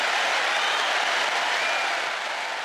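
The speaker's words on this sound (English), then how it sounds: "My team out there, please, one more time, give a big round of applause for Kevan Barton and everybody at YouthConne" Steady crowd applause fills the space, a thick continuous roar of many hands clapping at once, loud and even from start to finish with a slight fade at the close.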